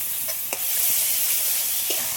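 Masala with ginger-garlic paste, onion, tomato, turmeric and salt fries in a pan with a continuous close hiss and sizzle, broken by a couple of brief spoon scrapes.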